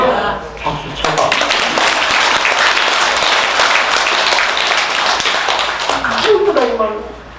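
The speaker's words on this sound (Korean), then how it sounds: "박수 쳐봐" Loud, dense audience applause fills a Buddhist temple hall during a Dharma talk, sustained clapping from many hands for several seconds with a voice rising near the end.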